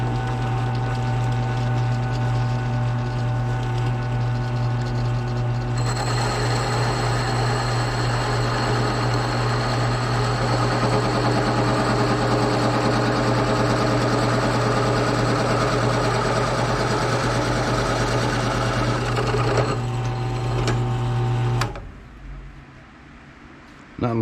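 A drill press runs steadily in a workshop for about twenty seconds, a loud continuous motor whine with a rising higher tone as the bit cuts in, then stops abruptly and spins down.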